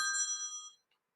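A phone rings with a short, bright electronic chime, faint and fading out within a second, followed by a tiny echo of tone and then silence.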